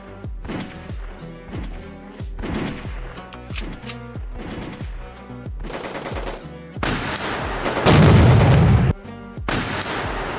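Rapid bursts of gunfire from the shooting mini-game of Military Academy 3D crack out in uneven volleys, with one louder, sustained barrage near the end.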